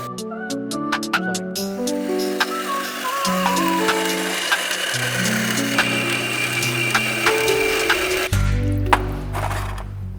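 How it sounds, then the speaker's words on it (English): A saw cuts through a 45-degree tube bend from a Porsche 356 custom tailpipe, giving a steady, loud grinding whine with shifting pitch that carries on for the full ten seconds and changes character near the end. "when we put it down the saw, it's going to reduce this 45-degree bend into a 30-degree bend"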